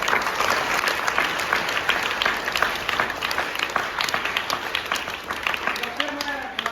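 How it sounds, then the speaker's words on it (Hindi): Loud, dense applause from an audience honouring children at a school gathering, sustained and continuous throughout, with voices mixed in near the end. "तो एक बार जोरदार ताली हो गई"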